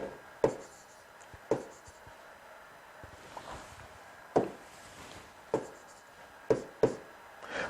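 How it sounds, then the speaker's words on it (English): Chalk or marker strokes on a board during a grade 8 maths lesson on equations, a series of sharp taps and short scratchy strokes spaced irregularly, faint against a quiet room hiss. "Let me write number 6 while you're busy."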